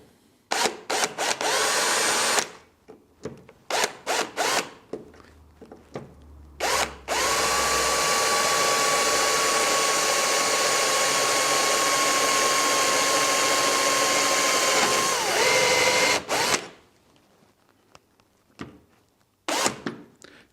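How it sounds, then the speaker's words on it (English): A power drill bores pilot holes through a Land Rover wing on a 4x4 overland camper build, with short bursts of the motor at first, then one long steady whine of about eight seconds that slows and stops, followed by a few more brief bursts. "So, pilot drill time."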